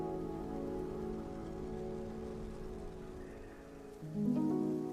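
Acid rain falling on a toxic planet in the video game No Man's Sky, a steady patter layered over a droning tonal hum, with the ambience swelling slightly near the end.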